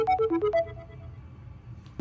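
A phone ringtone plays a quick run of bright electronic tones, then fades into a quiet tail before a final note cuts in at the end, with no talk over it.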